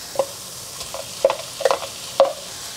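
Soybeans, cabbage and tomato are stir-fried in a wok: a handful of distinct spatula scrapes and tosses in an uneven rhythm over a quiet, faint sizzle.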